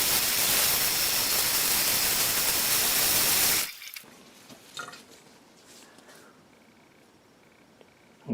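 Tie-dyed fabric rinsed under running tap water, a loud steady gush of water for a few seconds, then the tap stops, leaving faint drips and small handling sounds.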